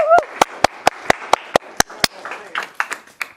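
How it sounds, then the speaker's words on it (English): A few people clap at a poetry reading, sharp, distinct slow hand claps spaced evenly and close, with a voice calling out at the start and scattered cheering toward the end. "Y'all give a round of applause."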